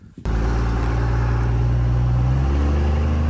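A P-pump 24-valve diesel truck engine cranks and fires at about a quarter second, then settles into a loud, steady, close idle with a deep rumble and turbo whine that carries to the end.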